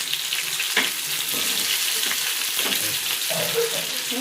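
Masala-coated fish fries in a pan, a loud continuous sizzle up close with a few light scrapes and bubbling pops, no speech.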